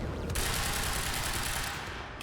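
Rapid continuous gunfire in the video game Quantum Break, a loud dense burst of shots lasting about two seconds with no talk over it.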